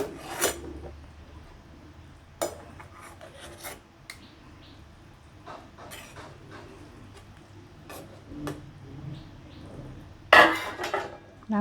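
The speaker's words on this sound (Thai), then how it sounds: "เบาไฟนิดหนึ่งเพื่อที่จะตักฟองนะคะ ตักฟองที่ไม่สวยงามออกนะคะ" A spoon or ladle skims foam from a pot of Chinese lotus root boiling on low heat, making scattered scrapes and metallic clinks against the pot over a quiet kitchen background.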